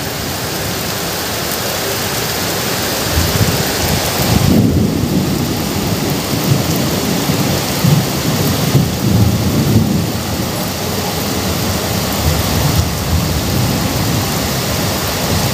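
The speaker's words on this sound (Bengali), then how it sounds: "আকাশ একেবারে ঘন কালো হয়ে রয়েছে, প্রবল বৃষ্টি চলছে এই মুহূর্তে" Heavy downpour in Medinipur under a dark sky, a steady dense roar of rain with low rumbles of thunder rolling through at several points, loud and continuous with no voices.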